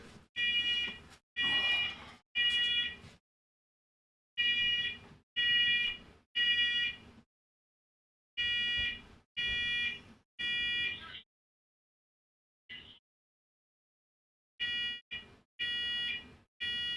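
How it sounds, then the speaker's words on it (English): A household smoke detector blares in groups of three loud, shrill electronic beeps separated by short silences, repeating over and over with no one talking. "I've got the smoke detector going off in the house."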